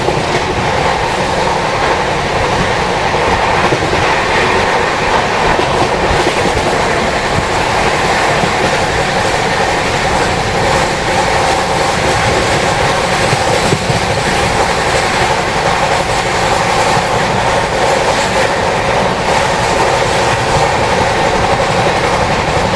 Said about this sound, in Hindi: तो ट्रेन ने निकलते ही अभी देखो 128 kmph, मतलब ऑलमोस्ट 130 kmph की स्पीड पकड़ ली है।